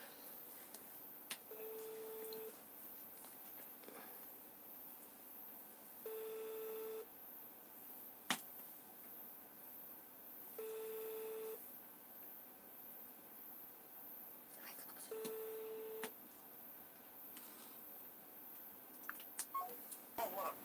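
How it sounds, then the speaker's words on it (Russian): A telephone call produces bursts of dialing tones and a repeating busy signal, four evenly spaced beep segments over a faint hissy line, quiet overall with no voices. "Уже куда-то звонит, там названивает."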